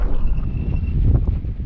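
Gusty wind buffets the microphone on an outdoor walk, a loud low rumble swelling and easing across the whole moment, with no talking.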